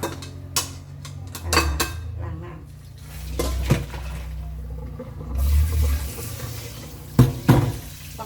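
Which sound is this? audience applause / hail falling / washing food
washing food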